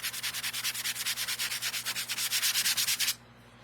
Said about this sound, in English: This sanding block has been well used.